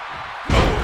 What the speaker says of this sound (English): Oh, sit-out slam.